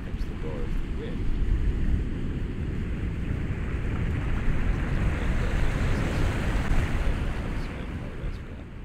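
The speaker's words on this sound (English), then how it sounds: "And then here comes the roar of the wind." Roaring wind sound effect for a game soundtrack, a thick continuous low rumble with airy hiss that holds steady and loud for the whole stretch before easing off slightly at the end, with no talk.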